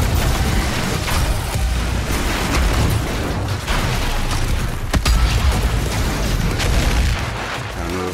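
Rocket launcher blasts from the Doom Eternal video game, with loud continuous booming explosions and rumbling chaos filling the whole stretch, dense and close with no clear gaps.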